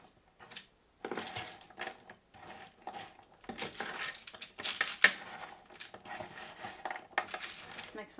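Candied pecans stirred in the basket of a Ninja Foodi Grill XL: quiet, close rattling and clinking of nuts against metal in irregular bursts, with a few sharper clacks.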